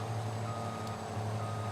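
Reversing beeps and a steady low engine drone from a truck in the farming video game Farming Simulator 22, a loud continuous in-game hum with an electronic warning tone, no talking.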